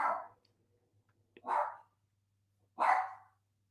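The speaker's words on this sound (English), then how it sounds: "dogs, chill out. I don't know what they're barking about." Dogs barking at a moderate distance: three separate barks spaced roughly a second apart, with quiet gaps between them and a faint low hum underneath.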